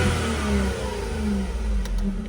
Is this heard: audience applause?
no